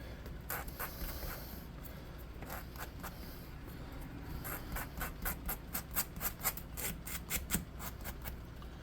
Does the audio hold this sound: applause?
no